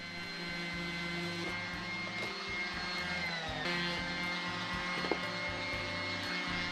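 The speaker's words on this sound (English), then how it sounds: "I refined the shape of the dome using an orbital sander" An orbital sander shapes a foam mushroom dome, giving a steady, continuous motor drone with a constant tonal hum that holds at an even level throughout.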